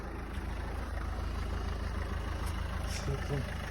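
A 2011 Renault Megane 1.5 diesel engine idles in a steady low hum that holds constant throughout, with faint background noise.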